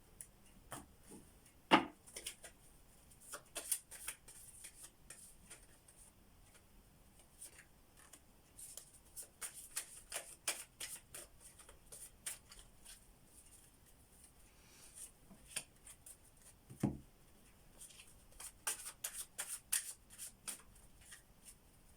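Playing cards being shuffled and handled on a table, a series of soft riffling and tapping bursts scattered through the stretch, fairly quiet and close, with no talk.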